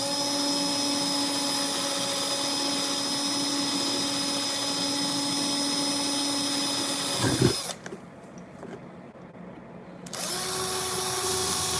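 A power drill whines steadily as it pre-drills holes during a live build, a continuous motor drone that briefly cuts out and dips before spinning up again, loud and close with no voices.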